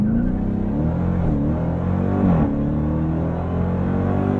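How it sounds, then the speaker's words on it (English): A 710-horsepower 2023 Dodge Durango SRT Hellcat SUV launching from a standstill up a slight incline, a loud, steady engine roar heard from inside the cabin, climbing smoothly in pitch as it accelerates. "I then release the brake, and we see what this 710 horsepower SUV can do."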